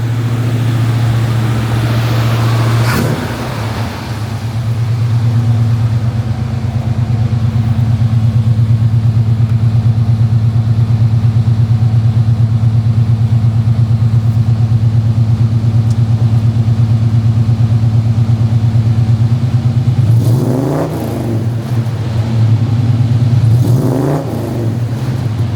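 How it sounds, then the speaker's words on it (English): A 1967 Chevy Camaro Convertible engine idles steadily after a cold start, a loud, close, deep rumble broken by a quick blip early on and two sharp revs near the end. "Nice cold start. Let's kick it down real quick."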